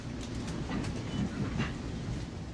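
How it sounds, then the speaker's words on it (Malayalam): A train rolling through the Brooklyn borough of New York produces a steady, moderately faint rumble with soft rhythmic rattling and no talking. "ബ്രൂക്ലിൻ ബറോയിലൂടെയാണ് ഇപ്പോൾ ട്രെയിൻ നീങ്ങിക്കൊണ്ടിരിക്കുന്നത്"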